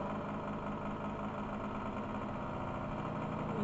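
An AC servomotor spins at 2000 RPM on a laboratory test rig for speed-torque measurements, giving off a steady, continuous mechanical hum with a faint vibration that stays even throughout, with no one talking.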